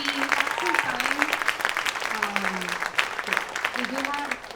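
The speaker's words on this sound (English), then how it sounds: "Round of applause for you." A small audience at a talk on addiction in Latine communities gives a round of applause, moderate clapping running throughout while a voice talks over it.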